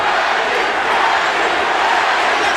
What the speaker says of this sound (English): The crowd is in an absolute frenzy.